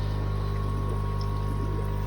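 Water poured into the outlet of a koi pond makes a steady, close rushing flow over a constant low mechanical hum.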